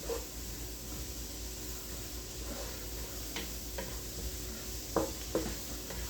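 Cheeseburger soup ingredients sauté on medium heat with a low, steady sizzle, broken by a few sharp scrapes and clicks of a utensil stirring the pot toward the end; no talking.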